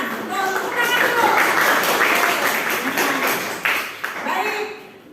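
Classroom applause as students clap together, a dense crackling burst of many hands sustained for several seconds and then tapering off, with voices mixed in.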